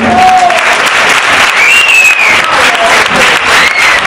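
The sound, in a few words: applause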